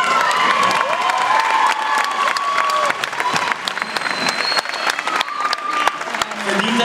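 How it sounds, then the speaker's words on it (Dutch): Audience applause with cheering and shouting at a 2016 school music jam concert, a dense continuous roar of clapping and crowd voices filling the whole stretch. "Zullen we haar nog een applaus geven?"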